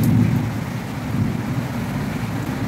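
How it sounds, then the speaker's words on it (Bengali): Heavy rain pours steadily during a dark late-afternoon downpour, a dense, continuous roar that stays loud and even throughout with a deep low rumble beneath, no voices present. "বৃষ্টিটা কতক্ষণ চলবে জানি না, পুরো অন্ধকার করে এসছে"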